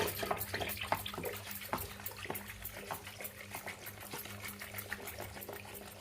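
Water poured into ragi ambali, a fermented finger-millet drink, splashes and trickles quietly and close by, with a few small clinks of vessel contact and no talk.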